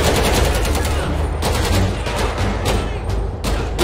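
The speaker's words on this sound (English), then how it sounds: "We got a couple people shooting all over." Chaotic gunfire in a GTA gang war, with overlapping shots and bursts from several guns, some near and sharp, others duller, over a busy, loud game background.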